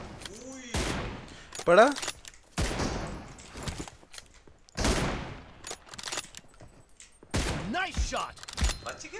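Gunfire in the PUBG Mobile video game: bursts of close, loud shots and rapid volleys scattered across the stretch, with a player talking between and over them.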